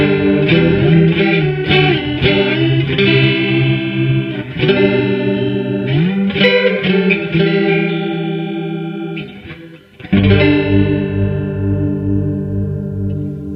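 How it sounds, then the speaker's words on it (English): A Boss PS-3 pitch shifter/delay pedal set to a warbling, chorus-like effect, with loud, continuous wavering sustained notes and a brief dip near the end before the notes swell back in. No one speaks. "You really hear that warbling, chorusy effect"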